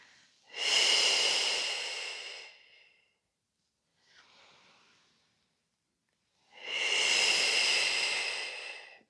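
Slow, deep breaths during a runners' recovery stretching session: a long loud breath, a faint short one, then another long full breath, all close to the microphone with no talking.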